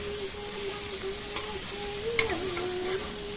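Vegetables cook in a pan with turmeric, chilli and coriander powder, making a soft, even sizzle with light stirring and a few brief clinks. No one speaks.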